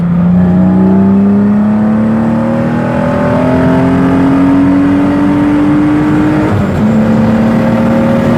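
A BMW E36 engine pulls hard and loud, its tone climbing steadily through one gear before a quick shift drops the pitch, and it starts rising again. No talking.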